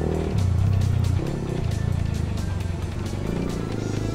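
Road traffic with cars and motorcycles on a wet street after rain, engines droning and revving nearby in a steady, loud mix throughout.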